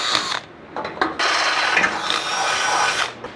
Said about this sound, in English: I'm gonna go ahead and just drill out these holes.